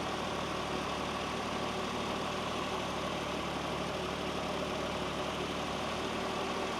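A Toyota Mark II JZX110 idles with a freshly fitted oil filter relocation kit, giving a steady, even rumble that holds for several seconds with no voices.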